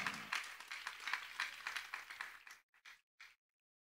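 A church congregation claps in rhythmic bursts at a worship service, a steady patter of many hands that thins out and stops after about two and a half seconds, with a few last claps trailing off.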